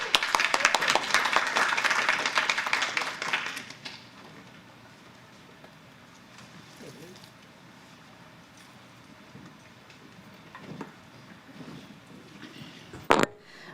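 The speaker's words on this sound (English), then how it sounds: "Let's give her a round of applause." Applause from the audience at a regular school board meeting, a loud burst of many hands clapping that fades out after a few seconds into quiet room noise with faint shuffling.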